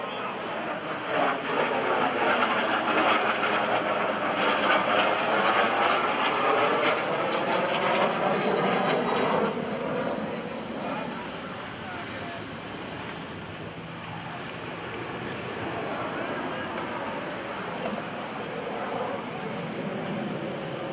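An aerobatic airplane's engine roars steadily through a triple aileron roll at the 2012 NAS Oceana airshow, flown by the Warrior Flight Team. The sound is loud and sweeping at first, then eases to a lower, more distant drone.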